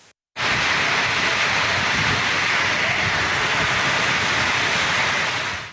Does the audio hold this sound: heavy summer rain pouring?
yes